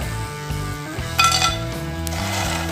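Crispy fried wheat-flour nachos chips being moved with a metal utensil into a vessel, with clinks and scrapes of metal on cookware and a faint sizzle beneath.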